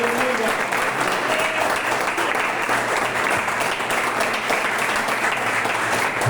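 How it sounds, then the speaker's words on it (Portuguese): Dense, continuous applause from a church congregation welcoming the pastor, loud and sustained throughout with a faint crowd murmur beneath. "vamos receber o pastor com a melhor salva de palmas"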